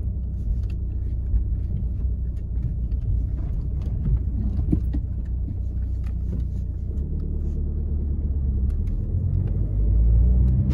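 A car with a Tekmektronic stage 1 tune drives at light throttle after warming up, its low engine rumble and road noise steady and heard from inside the cabin.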